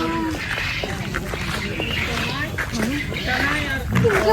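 Duck-like quacks and bird calls repeat throughout, mixed with a busy crowd of overlapping voices and background chatter.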